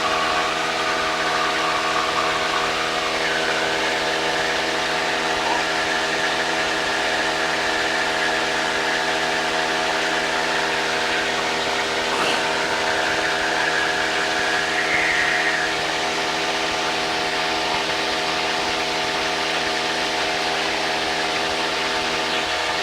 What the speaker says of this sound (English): This engine does have more, I guess, of a rough sound than the Mall to me.